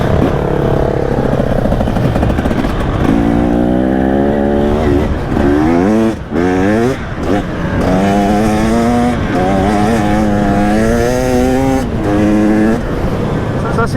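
A KTM 300 EXC 2025 two-stroke enduro motorcycle engine revs loudly and close up, its pitch sweeping up and down in repeated throttle blips over a steady idle.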